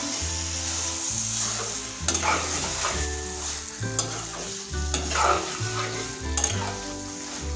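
Garam masala being stirred into a banana flower and fish head curry in a sizzling pan, with steady scraping strokes over continuous frying, a few sharper clanks, and music playing throughout.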